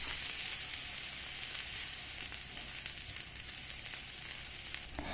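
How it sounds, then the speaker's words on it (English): Onions sauté in olive oil with cumin seeds, a soft, even sizzle and hiss with a few faint ticks, steady and fairly quiet throughout. "I add in onions to this now that I saute until they change color slightly."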